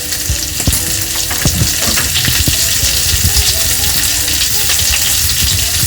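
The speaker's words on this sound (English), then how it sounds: "at this point I'm going to add my chopped capsicum" Chopped capsicum frying in a hot pan with onions, a steady loud sizzle with scattered crackles and occasional stirring scrapes throughout, no voices.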